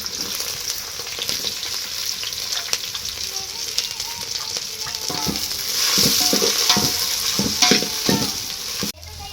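Vegetables fry in hot oil with spice powder added, making a loud, close sizzle while a spoon stirs and scrapes the pan. The frying grows louder toward the end, and a voice is faintly heard under it.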